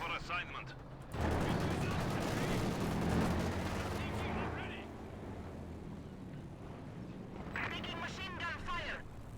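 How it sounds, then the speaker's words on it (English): Tank gunfire from a T-34 in the Company of Heroes 2 strategy game: a loud, sharp blast hits just after the first second, followed by a long rumbling decay, with game voices chattering toward the end. "T-34 blasting the pioneers and then for the 2 here"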